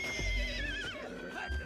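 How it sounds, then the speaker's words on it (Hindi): A mare neighs in distress over her weak newborn foal, a loud shrill whinny that wavers and falls away, heard close with a faint clip-clop of hooves beneath. "ठाकुर उस आवाज से खींचे चले आए और देखा तो घोड़ी अपने बच्चे के लिए तिलमिला रही थी।"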